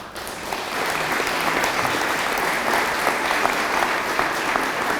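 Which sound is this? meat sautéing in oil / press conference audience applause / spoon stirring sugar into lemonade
press conference audience applause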